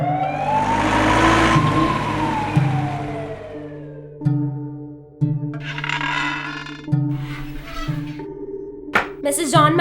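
An ambulance siren swells loudly over rumbling engine noise, then fades out as a vehicle idles and shorter mechanical sounds follow.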